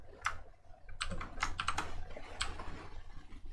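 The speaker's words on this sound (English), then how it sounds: "Bunch of keyboard shortcuts." Quick bursts of keystrokes on a computer keyboard as shortcuts are entered, several clustered clicks close by over a faint steady hum, with one brief spoken word.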